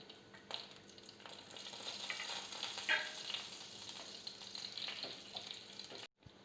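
Cumin seeds, red chili and bay leaves crackling in hot oil in a kadai, a continuous near sizzle with small pops and stirring, no voices.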